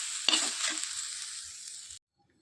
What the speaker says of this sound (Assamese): নাৰিকলখিনি ভালদৰে ভাজি লওঁ।